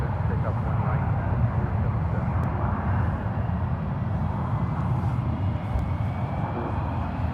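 A plane takes off from runway 1 Right at San Francisco International Airport, a steady, loud roar of engine rumble that holds evenly from start to finish.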